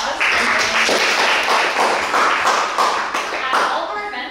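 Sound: applause

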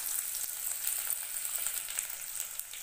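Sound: sliced garlic frying in oil

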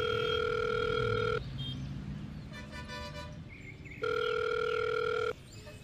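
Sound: telephone ringing as a call is placed

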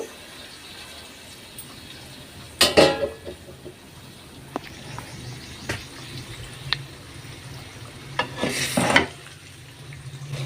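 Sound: chicken pieces frying in a pan on low flame

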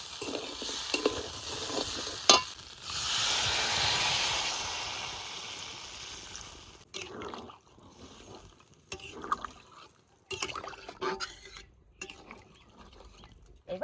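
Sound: water added to sizzling chicken curry in a kadai

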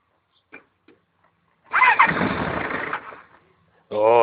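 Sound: Suzuki Gixxer motorcycle engine starting cold

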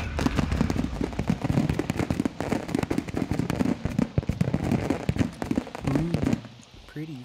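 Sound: fireworks exploding in the video game Call of Duty MW2

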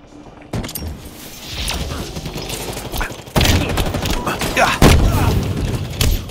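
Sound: gunfire in the video game Halo Infinite

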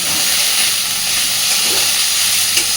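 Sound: raw banana peels frying in a pan

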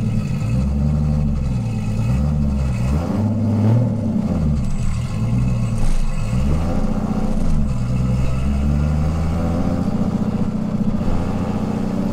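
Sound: car engine revving, pulling away

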